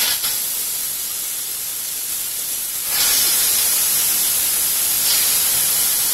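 Chicken frying with garlic for a stew gives a steady, loud broadband sizzle that swells noticeably about halfway through and holds alone without voices.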